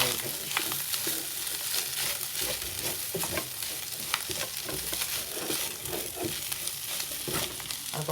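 Potatoes frying with corned beef in a pan give a steady, close sizzle, with light stirring scrapes scattered through it and no talking.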